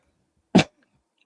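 A single sharp cough bursts out near the mic, loud and brief, followed by a faint short second sound; no talking during it.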